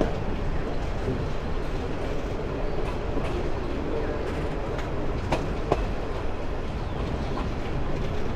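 Steady rolling rumble of the Chattogram University shuttle train easing its speed near a station, with a continuous rattle, scattered wheel clacks and a sharp knock or two.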